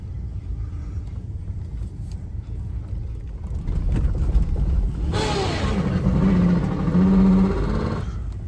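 A 2006 BMW 325i engine runs with a steady low rumble that grows louder and rougher midway, holding a strained, revving roar near the microphone before easing back slightly.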